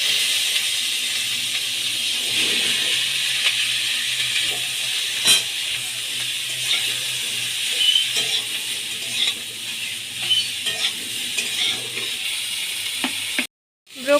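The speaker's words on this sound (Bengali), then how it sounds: "এবার ওই তেলের মধ্যেই আমি ব্রোকলিগুলো ভেজে নেব।" Broccoli frying in hot mustard oil in a wok, a steady loud sizzle and hiss running continuously with a few faint pops and kitchen clatters, cutting out abruptly near the end.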